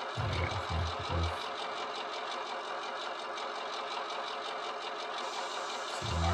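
A model Class 121 railcar's engine sound effect revs up steadily from a low rumble into a sustained, busy, mid-pitched drone, loud and continuous with no talk over it.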